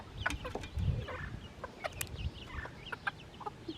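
Backyard chickens and a rooster cluck in short, scattered bursts, with a few sharper calls over a low, soft rumble; the sounds are fairly faint and moderately distant, and no one speaks.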